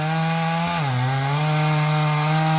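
A chainsaw cuts through oak timber, its loud, close engine droning steadily and dipping briefly in pitch as the chain bites into the wood before it recovers.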